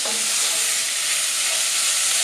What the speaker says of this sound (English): now what we need to do here is gently fry off the meat until it's browned